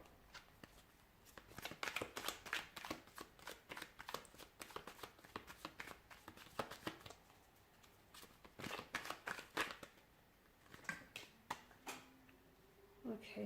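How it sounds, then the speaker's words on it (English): Tarot cards being shuffled by hand, a run of quick riffling, papery flicks in irregular bursts, fairly faint and close, with no talking. "Give the cards a shuffle."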